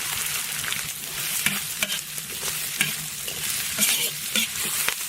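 Scallion, ginger, garlic, dried chili and Sichuan pepper stir-frying in hot oil in a wok, with a steady loud sizzle and sharp scraping clicks from a spatula at an uneven rhythm, and no talking.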